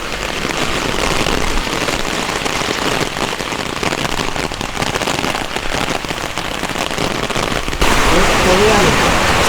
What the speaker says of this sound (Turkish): Çok yağıyor